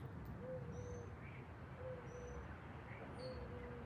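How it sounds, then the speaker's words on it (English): An owl hoots outdoors, three soft, low calls spaced about 1.5 seconds apart at a moderate distance, with faint higher bird chirps scattered between them. "Do you hear that? That's an owl."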